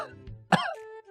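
A human voice imitates a goat's cough with one short, harsh, throaty burst, close and clear, with a brief vocal sound trailing after it.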